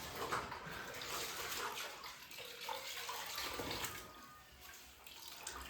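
Water runs steadily from a tap into a filling tub or bucket in a home, a broad continuous gushing that stays fairly loud throughout with no talk over it.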